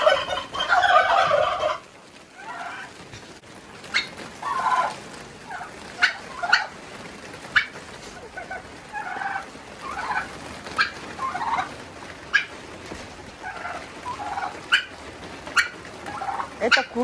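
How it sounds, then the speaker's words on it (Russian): A Marans hen clucks and calls in short, separate bursts spread over several seconds, fairly close and otherwise alone in a quiet coop. "Это курочка Маран."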